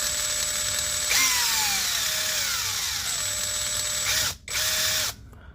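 Dongcheng DCJZ2060i power tool running rough with a broken rotor gear, a whining motor that rises then glides down in pitch, briefly cuts out, restarts and stops, heard alone and close.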